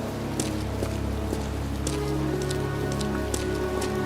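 Heavy pouring rain in a cemetery in the game Heavy Rain, a dense, steady hiss of drops hitting surfaces with scattered sharper splashes and a low rumbling bed beneath, continuous and close.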